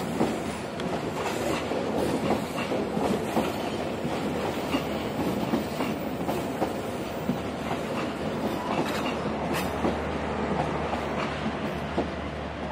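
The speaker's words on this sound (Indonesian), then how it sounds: "KA Lodaya sudah berjalan langsung stasiun Leles, berjalan santai ya melintasnya" The KA Lodaya passenger train rolling slowly past near Leles station, a loud, continuous rumble with rhythmic clickety-clack of wheels over rail joints close by, no talk.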